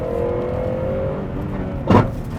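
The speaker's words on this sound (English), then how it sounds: "You can probably hear the VTEC just kicked in around the corner then" Honda Prelude engine revving as VTEC engages through a corner, heard from inside the car as a continuous loud drone with a climbing whine, then a brief sharp thump near the end.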